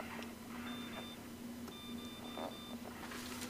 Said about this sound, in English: We got big fish alarms going off here.